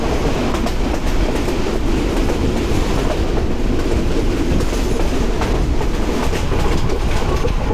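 A Bangladesh Railway Balaka commuter train runs steadily with continuous rumbling and clattering wheels on the track, a loud, close and unbroken ride noise with no voices.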